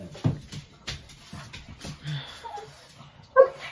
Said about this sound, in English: my dogs are even barking at me